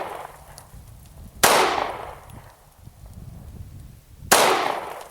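Two sharp, loud Glock 26 pistol shots at outdoor target practice, each a sudden crack with a decaying ring, spaced about three seconds apart over quiet background.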